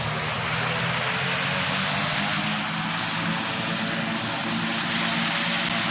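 A passenger airplane engine in the PTFS video game roars steadily for takeoff, a loud, continuous, even drone with no talking over it.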